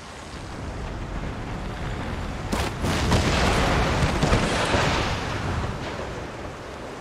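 Galleon cannon broadsides in an Empire Total War naval battle boom and rumble as a dense roar over wind and surf, swelling louder midway before easing off.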